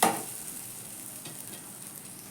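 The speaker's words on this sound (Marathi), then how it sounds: "असे पलटी करून घ्यायचे एक साईडने आणि परत तेवढाच वेळ भाजून द्यायची" A grated raw potato pancake for a fasting-day meal fries in a pan with a soft, steady sizzle. It starts with a brief louder burst, then settles into a quiet crackle throughout, with no talking.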